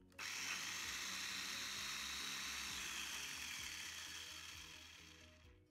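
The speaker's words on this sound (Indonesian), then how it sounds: "Saya pakai chopper keluaran dari Mito Shiba CH100." A Mito Shiba CH100 electric food chopper runs with a steady whirring motor and buzzing blades, loud and close, holding for about five seconds before winding down, with no talking.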